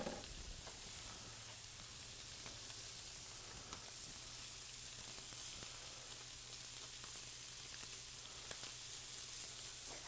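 Pieces of spicy fish for tacos sizzle steadily in a hot pan, a dense continuous hiss with occasional pops and crackles, close and unbroken, with no speech.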